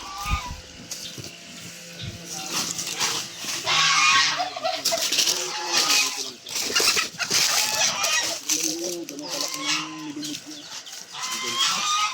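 Several chickens cluck and squawk together nearby, a busy, overlapping chorus that rises and falls without pause.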